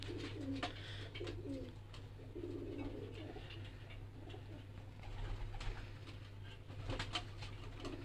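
Pure Kasuri pigeons cooing in a backyard loft, soft repeated coos over a steady low hum, with scattered faint chirps and rustling throughout.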